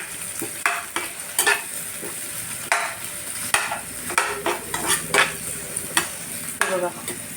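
Capsicum and onion stir-fry in a hot pan for Hakka noodles, a bright sizzle punctuated by repeated quick scraping and tossing strokes in an irregular rhythm, close and clear with nobody talking.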